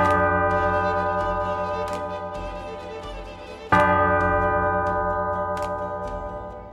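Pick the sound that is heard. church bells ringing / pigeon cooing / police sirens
church bells ringing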